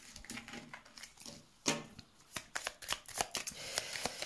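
Tarot cards shuffled by hand for a reading, with a quick burst of riffling clicks and soft taps.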